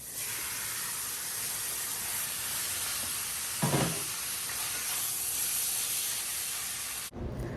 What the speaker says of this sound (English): Ah, that sizzle.